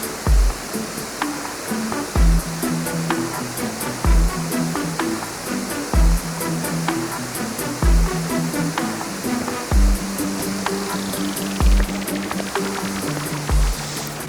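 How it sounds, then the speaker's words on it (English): Waterfall in a park, powerful continuous rushing and splashing water close by, with a regular low thumping pattern repeating under the roar throughout. "you can actually walk under a ton of these waterfalls right now"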